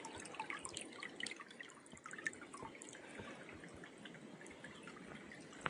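A small trickle of water flows and drips along a forest trail, a faint, continuous light babble with soft splashes in a quiet outdoor setting.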